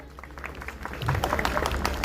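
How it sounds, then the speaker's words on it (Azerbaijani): A concert audience claps for a singer, dense applause building and growing louder over a couple of seconds, with some voices mixed in. "Gelin Nuray'ımızı alqışlayaq"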